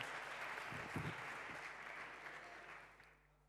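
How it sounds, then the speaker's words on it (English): Conference audience at the Arena Stage of a startup summit applauding, a dense even clapping that fades out over a few seconds, heard from a distance and fairly quiet. "So please give a big round of applause to Renaud Visage."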